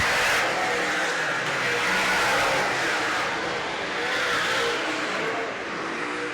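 Super saloon race cars roar around Baypark Speedway in a continuous loud, dense engine drone as several cars lap close together, with no break in the noise.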